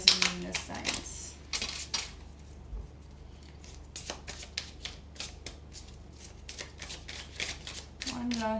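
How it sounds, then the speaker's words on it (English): Cards are shuffled in repeated crisp bursts of riffling and snapping, close and clear, with brief pauses between rounds. "One last shuffle"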